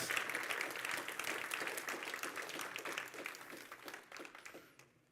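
A church congregation at a Spanish-language revival service claps steadily in a dense, sustained round of applause that thins and fades toward the end.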